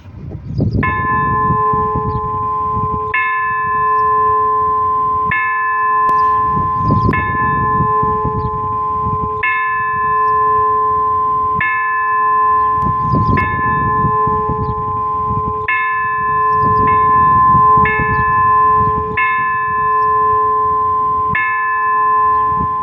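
The bell of the Coma-Cros factory in Salt rings in a long series of clear, resonant strokes at a steady rhythm, each tone lingering and overlapping the next, loud and near.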